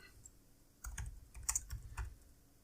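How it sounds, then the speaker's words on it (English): Keys clatter on a laptop keyboard in a quick irregular burst of close, crisp taps after a brief quiet moment, with no talk. "Please forgive my typing. I'm on a laptop right now."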